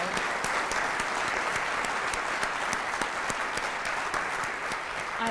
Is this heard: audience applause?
yes